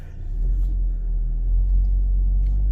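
A Hummer H3 with a newly swapped transmission on a test drive, its engine a low, steady rumble from inside the cabin that swells slightly as it pulls.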